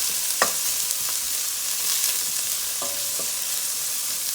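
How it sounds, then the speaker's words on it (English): Goat and squash stew being stirred in a pot, a constant sizzling hiss with a few light spoon clinks and scrapes, no voices. "And I will give this a stir."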